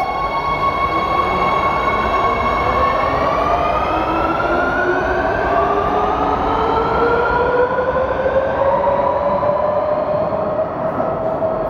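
A subway train pulling into a station stop, loud and steady throughout, with a rising-and-falling whining tone sliding across the pass, no talking over it.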